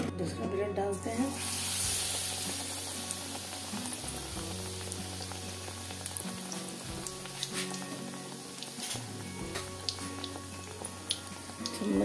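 Bread slices for dahi bade sizzle and crackle in hot oil, a dense, steady frying hiss close by with scattered pops and the occasional clink of a spoon.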